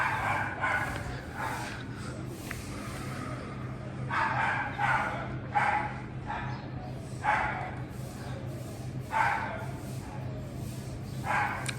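An indoor dog named Tin Tin gives repeated high yips and barks in short bursts behind a steady low hum, the yelping rising and falling in clusters throughout.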